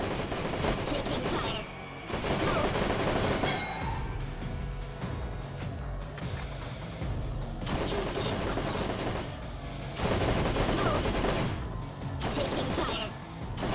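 Gunfire in the Borderlands video game comes as dense, loud bursts of rapid automatic shots, broken by brief lulls and then resuming with heavy fusillades and crashing impacts.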